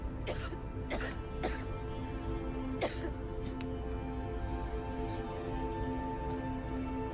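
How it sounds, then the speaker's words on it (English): A woman coughs several times in quick bursts, then clears her throat, over a low steady hum of ambient background sound, in the video game Silent Hill 2. "Better do something about that cough."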